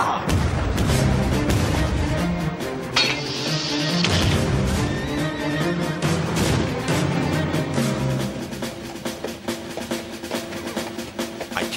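An artillery bombardment rumbles on in a dense, continuous barrage of booms and thuds, loud and sustained, with layered crashes and blasts overlapping throughout.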